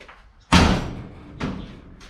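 A Datsun 1200 coupe door under restoration slams shut with a loud, solid thud, followed a moment later by a second, softer closing knock nearby.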